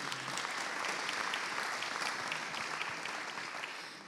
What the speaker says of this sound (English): Let's give Leland a big round of applause